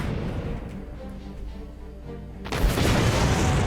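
A naval gun fires in the VR turn-based strategy game Battle Fleet 2, a loud booming blast that jumps in suddenly after a low rumbling stretch and then holds a sustained roar.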